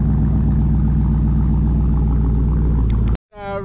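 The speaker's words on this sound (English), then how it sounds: "That's trying to rev it when it's still on auto start." A Dodge Durango Hellcat's engine roars at high, steady revs while still in auto start, then cuts out abruptly, and a brief, fainter whir follows as it tries to restart.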